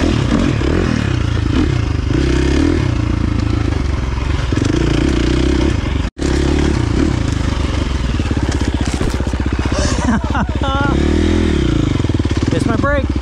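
A 2023 KTM 350 XC-F dirt bike engine revs hard and close with sharp throttle blips and rising pitch, under continuous talk from a man nearby.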